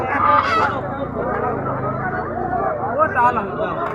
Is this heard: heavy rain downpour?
no